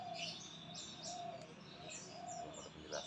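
Magpie robin giving repeated chirps and short whistled calls, fairly near, alone against constant background noise.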